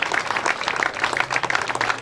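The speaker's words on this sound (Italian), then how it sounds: "Vi vorrei invitarvi a fare un applauso alle forze dell'ordine" An audience at an outdoor Democratic Party summer event in Diamante, Italy, applauds the police, a continuous crackle of many hands clapping with a low hum beneath, steady throughout.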